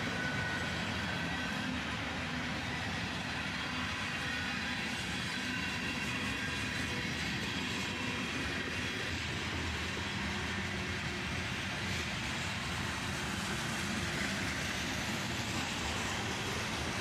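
A long CSX freight train with a YN2 Dash 9 locomotive and gondola cars rumbles past in a continuous, steady roar of rolling wheels and rail noise, loud and unbroken throughout.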